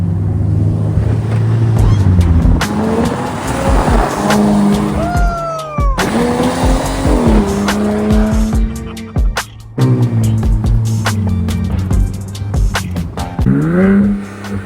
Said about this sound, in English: What is it called? The Super 10 muffler for Flowmaster? I believe it's Super 10. It was their loudest one.